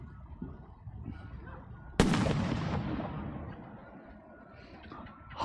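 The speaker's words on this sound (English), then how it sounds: "Illegal firework going in." An illegal firework exploding, one sharp loud boom after a quiet stretch with faint voices, then a long fading rumble and echo.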